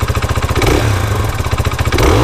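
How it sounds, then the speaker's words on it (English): A cold KTM 500 EXC-F dirt bike engine blips loudly and close by, rising from a pulsing idle into a short rev. Sharp crackling pops of backfire break out as it climbs. "The backfire at the top."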